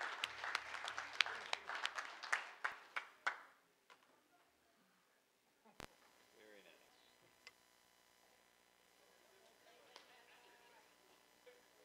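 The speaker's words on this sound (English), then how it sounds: "how about another round of applause for this amazing talent?" Applause for a young performer at a school board meeting: scattered claps from a modest crowd in a large room that quickly taper to a few single claps and die away into quiet, with a faint voice and small noises afterwards.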